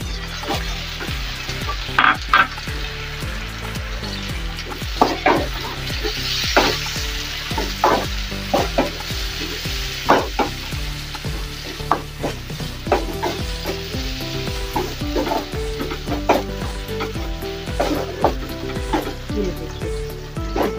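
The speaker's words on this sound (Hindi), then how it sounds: "प्याज हमारी हो चुकी है लाइट गोल्डन, अब हम इसमें शामिल करेंगे टमाटर" Tomatoes go into light golden onions frying in a pan for aloo lobia, a white bean and potato curry, bringing a steady loud sizzle with scraping stir strokes and utensil clinks throughout.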